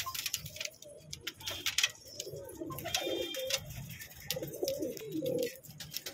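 Pigeons in a high-flyer loft, Rampuri, Galans and Allahabadi breeds, coo softly and repeatedly at close range, with low throaty calls rising and falling throughout and no talking.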